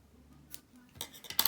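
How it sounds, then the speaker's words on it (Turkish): Scissors snip through yarn while making a crocheted amigurumi cherry, two or three short, close, quiet cuts in a hushed room. "Şimdi bu ipi uzun bir şekilde kesiyoruz."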